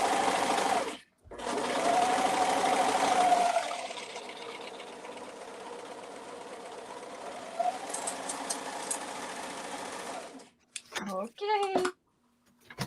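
A serger sewing machine running in fast, steady bursts of stitching, close and loud, stopping briefly and then running on, with people talking over it near the end.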